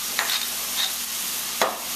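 Spaghetti squash meat sauce sautéing in a pan gives a steady sizzle, broken by a few sharp utensil clinks and scrapes.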